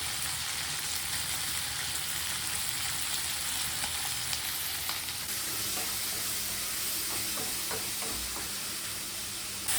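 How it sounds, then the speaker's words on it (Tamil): A tomato sautéing in a pan while making a Tamil-style mochai (field bean) masala, giving a steady close sizzle and hiss throughout with a few light stirring scrapes near the end. "ஒரு தக்காளியை போட்டு ஒரு வதக்க வதக்கலாம்"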